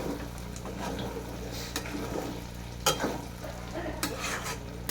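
Green chillies fry in fish oil in a pan, a soft steady sizzle with occasional stirring scrapes and sharp utensil clicks against the pan, fairly quiet and close.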